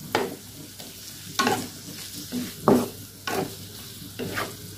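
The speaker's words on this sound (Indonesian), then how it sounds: "Ini kita aduk dan kita biarkan sampai si airnya agak sedikit menyusut" A home-cooked dish with sliced green and red chilies stirred in a pan as its liquid simmers down, soft bubbling under a series of close scraping stirs spaced about a second apart.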